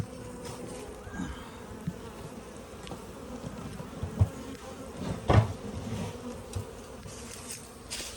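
A honey bee swarm buzzes around a hive box set up on top of a ladder, with a dense, steady hum of many bees close by and a few faint knocks underneath.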